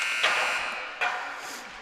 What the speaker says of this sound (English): the buzzer has gone now